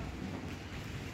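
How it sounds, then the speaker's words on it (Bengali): Gusty wind buffets a balcony under a cloudy sky before rain, a steady close rush of broadband wind noise striking the microphone throughout, with no voices. "বেশ ভালোই দমকা হাওয়া দিচ্ছে এখন"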